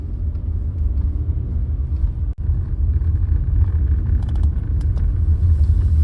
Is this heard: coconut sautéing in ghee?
no